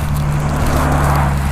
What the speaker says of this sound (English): road noise as usual.